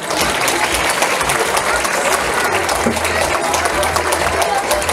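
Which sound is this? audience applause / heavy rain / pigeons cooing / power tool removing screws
audience applause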